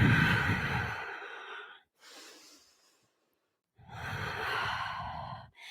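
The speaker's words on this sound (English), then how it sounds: "Coming back to that Ujjayi breath." Ujjayi breathing during a power yoga session, slow audible ocean-like breaths close to the microphone, a long exhale, softer inhale, pause, then another long breath, with no talk.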